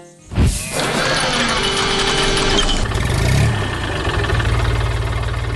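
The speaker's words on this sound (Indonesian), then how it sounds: "Traktor merah sedang membawa jerami ke tempat yang sudah disiapkan. Suara mesinnya menggelegar" A heavy tractor engine on a farm starts with a burst and then runs loudly at a steady, rumbling idle, close by.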